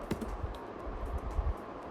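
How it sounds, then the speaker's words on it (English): Someone types on a computer keyboard, with a few quick, close key clicks over a few seconds. "So I'm just typing ABC."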